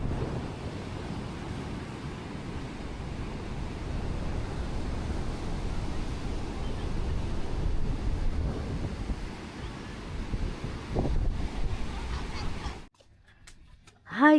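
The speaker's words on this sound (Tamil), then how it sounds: "பீச்சு தான்ப்பா. அலை எப்படி அடிக்குது பாரு." Sea waves break on a beach in Bali as a steady, roaring wash of surf mixed with wind buffeting the microphone. It stays loud and continuous, then drops away sharply near the end.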